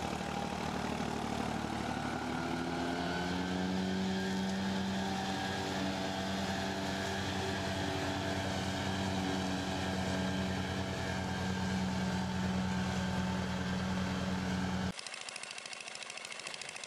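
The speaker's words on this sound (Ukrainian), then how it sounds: "Італіянська, по-моєму, косілочка." A small engine of an Italian grass mower drones steadily at close range, its pitch wavering slightly, then cuts to a quieter, thinner hum near the end.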